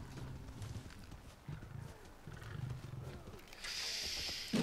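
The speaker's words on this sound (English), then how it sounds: "Rare black lion tamed." A rare black cave lion growls low and rumbling in the Far Cry Primal game, a few short growls followed by rising ambient noise, with someone talking over it.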